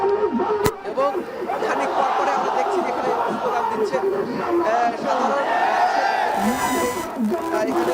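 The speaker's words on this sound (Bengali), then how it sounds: "খানিক পর পরে আমরা দেখছি যেখানে স্লোগান দিচ্ছে" Protesters at a street demonstration after Friday prayers shout slogans together, a loud mass of raised voices with chanting and crowd chatter throughout.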